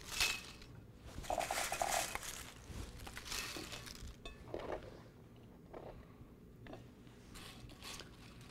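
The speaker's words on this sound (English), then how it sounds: "Put a little bit of kettle chips on the plate." Kettle chips are dropped onto a plate in a few quiet, crisp clattering bursts with rustling between them, close by and fairly faint.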